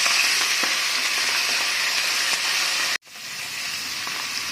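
Fenugreek leaves fry in a mustard and cumin tempering, a steady close sizzle and hiss that cuts out sharply for a moment before resuming.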